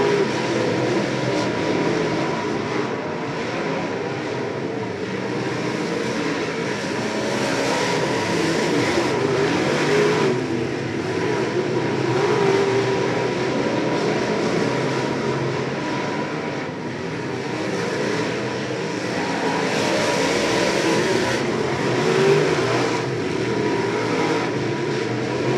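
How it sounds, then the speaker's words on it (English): Modified race cars in a speedway heat race at Macon Speedway, a continuous broad roar of engines from across the track, steady and moderately distant with slight swells as the pack passes. "the top 4 cars right now here in the Reds Place Modifieds heat race"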